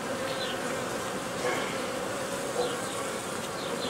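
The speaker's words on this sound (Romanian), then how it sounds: "iată ce de albinuță" A dense, steady drone of many honey bees buzzing close by, continuous throughout with occasional brief louder passes.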